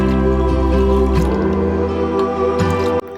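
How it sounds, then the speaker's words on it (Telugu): Milk poured into a pressure cooker pot for coconut rice, a continuous close liquid stream with gurgling, rising filling tones that stops abruptly near the end. "ఈ 3 కప్పుల పాలు కొలుచుకొని ఒక కుక్కర్ గిన్నెలోకి పోసుకోవాలి"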